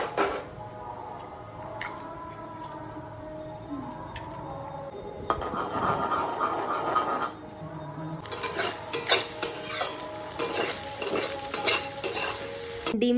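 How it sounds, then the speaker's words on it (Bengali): Eggs stir-fried with onion and green chilli in a wok, soft scraping and stirring giving way to a louder sizzle with metallic clinks of a spatula toward the end, no speech. "লঙ্কা দিয়ে কিছুক্ষণ ভেজে নিয়ে কয়েকটা ডিম ফাটিয়ে দিয়ে দেব।"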